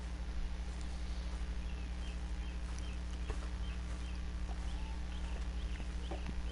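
Horse hooves clip-clopping at a walk in Red Dead Redemption 2, a steady rhythmic clatter heard under a constant low rumble of ambient game sound.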